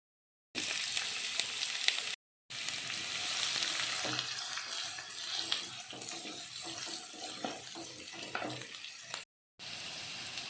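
Sliced onions sizzling in hot oil in a pan for semiya upma, a loud crackling fry with stirring scrapes, broken by a few short silent gaps.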